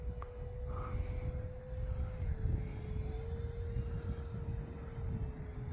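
E-flite Habu SS 50mm electric RC jet flying overhead, a steady high ducted-fan whine at moderate distance with faint background noise and no talking.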